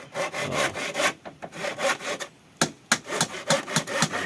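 Wood being sawn by hand in quick, rhythmic back-and-forth strokes, close and clear, with a brief pause partway before the strokes resume.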